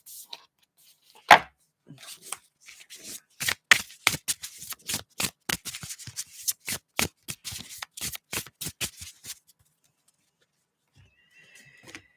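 Oracle cards are shuffled by hand in a quiet room, a rapid run of crisp riffling slaps and taps that builds for several seconds, then stops.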